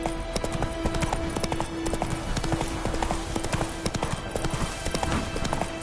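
Hooves of the horse Roach in The Witcher game, a steady trotting clip-clop that runs the whole way through at close range, with a faint whinny and the game's background sound.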